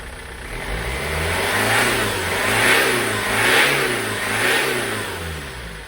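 A Ford Transit van's M47 diesel engine, with no rev limiter, revs repeatedly in smooth rising and falling swells, loud and close with a steady underlying drone and no talk.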